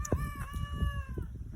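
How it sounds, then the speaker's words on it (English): Chickens on a homestead make a close, loud crowing call, then keep up scattered low clucks and murmurs in the yard. "And there's the chickens."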